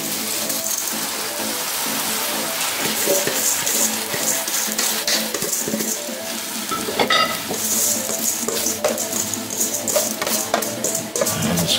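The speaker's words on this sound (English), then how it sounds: "green peas, and carrots. Yes. I'm going to add my rice." Uncooked rice tipped into a pot holding green peas and carrots for Jamaican-style seasoned rice, a steady sizzling, rain-like patter with stirring scrapes running throughout at close range, no talking.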